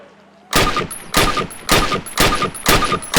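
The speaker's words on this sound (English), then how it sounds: "Approach the fence and fire 6 rounds at your target" Rifle fired at a target on a training range in Call of Duty (2003), six loud, evenly spaced shots in a steady rhythm, each with a short ringing tail, no talking.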